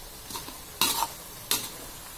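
Genjer (yellow velvetleaf) greens being stir-fried with salt, sugar and seasoning in a pan: two sharp scraping stirs of a utensil against the pan over a soft, steady sizzle, close by, with no talking.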